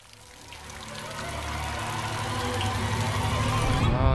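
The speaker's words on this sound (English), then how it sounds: "Raining inside?" Indoor rain in the Call of Cthulhu game: a rushing, pouring water sound swells steadily louder over a few seconds, with a low rumble beneath and no clear speech.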